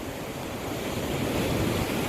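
Sea waves wash steadily onto Nam Rin beach in Ban Chang, Rayong, a continuous broad roar of surf mixed with wind buffeting the microphone, with no voices.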